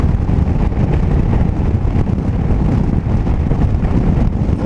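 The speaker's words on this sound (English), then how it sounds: "It's a little windy." Heavy, constant wind buffeting roars across the microphone while riding a 2023 Indian Sport Chief motorcycle, a loud low rumble that masks nearly everything else with no speech.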